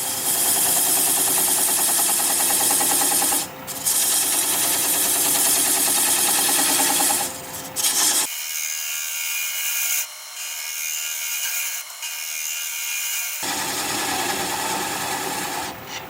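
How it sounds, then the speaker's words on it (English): A wood lathe spinning at about 600 RPM while a 3/8 inch bowl gouge cuts away a tenon on a turned wooden flower pot gives a loud continuous whirring rasp that pauses briefly and shifts in tone between cuts. "I'm going to take a 3/8 inch bowl gouge and commence to removing that tenon."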